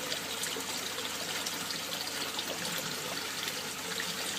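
Water flowing steadily through a K1 filter system fed from three bins holding about 150 litres, a soft, continuous wash and trickle at low level with no voices.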